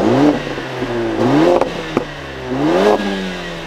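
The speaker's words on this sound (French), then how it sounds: "on a une sortie à quadruple échappement en noir pour entendre le son de notre AMG" A 2021 Mercedes-Benz GLA 45 AMG revving through its black quad exhaust, with three loud rising revs and a sharp pop between them, close and alone.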